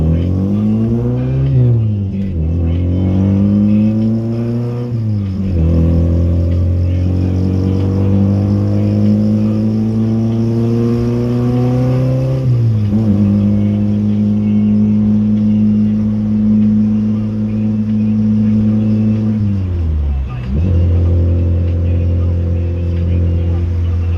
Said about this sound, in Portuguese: esse carro aqui dá a impressão que tá correndo muito por causa do barulho do escape direto